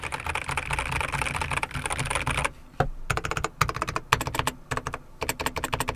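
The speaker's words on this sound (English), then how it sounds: "Most major companies that make keyboards don't really have the best kind of sounding keyboards when typing." Fast, continuous clacking of a Logitech G512 X 75 mechanical keyboard being typed on, close up, with a brief pause partway through.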